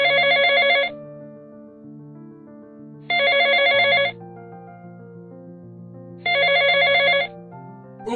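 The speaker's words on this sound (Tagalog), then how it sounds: "si Cleo ay biglang nag-ring ang kanyang phone." A mobile phone rings in a busy campus canteen, three bright electronic ringtone bursts of about a second each, evenly spaced, loud and close, with a soft low sustained tone beneath and no talking.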